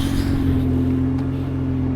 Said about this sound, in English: It's turned on and it's cold starting.